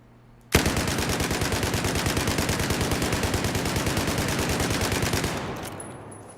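Sustained rapid automatic fire from the U-100 MK5 light machine gun in Battlefield 4, one long unbroken burst of evenly spaced loud shots lasting about five seconds before cutting off.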